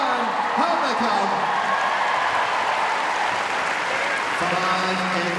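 A crowd at a Kennel Club dog agility final cheers and applauds a run, steady sustained clapping and shouts, with an announcer talking over it.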